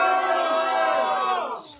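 A crowd of hostages' families cheers in a brief, loud burst of massed shouting voices that fades out within two seconds.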